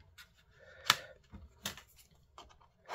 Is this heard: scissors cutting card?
yes